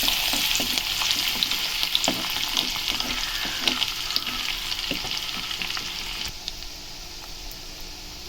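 Sliced onions hit hot oil with popped mustard seeds, chana dal, cumin and dried red chilies, a bright continuous sizzle with crackles and occasional stirring scrapes, close up and steady, easing slightly toward the end.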